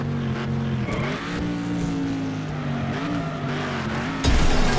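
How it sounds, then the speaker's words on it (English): In the Next Car Game racing game, a big heavy muscle car drifts through a turn with a steady engine drone and squealing tires. A sharp, louder burst arrives near the end. "So if I can get the tail end to come out a little bit, I can just drift around the turn"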